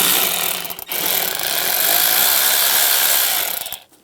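A power ratchet drives an 8mm socket to loosen a worm clamp at the throttle body of a 2015-2020 GMC Yukon XL. It gives a loud, close buzzing whir with a brief break early on, then runs steadily for about three seconds before stopping.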